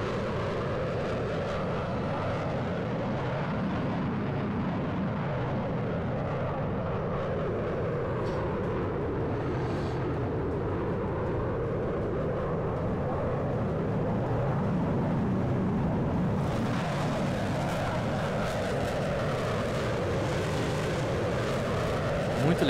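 A Gripen fighter jet takes off in a military simulation game, its engine a sustained loud roar and rumble that holds steady, then brightens with added high-end hiss in the final seconds.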